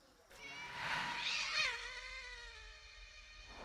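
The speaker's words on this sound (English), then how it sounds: "But that's my kitty." A cat meows in the Svoboda 1945: Liberation video game, one long drawn-out mewing call that rises and then slowly fades, clear and close with no talk over it.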